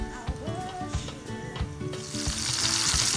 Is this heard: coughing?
no